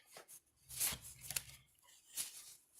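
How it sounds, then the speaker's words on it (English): A deck of oracle cards is shuffled by hand close by, a few soft riffling and slapping bursts in an uneven rhythm, quiet and with no talking. "still shuffling for you guys to see"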